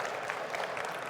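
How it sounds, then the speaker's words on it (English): Applause from a live audience at a DEF CON 30 stage show, steady and fairly loud, filling the whole brief moment without talk. "Give him a round of applause again"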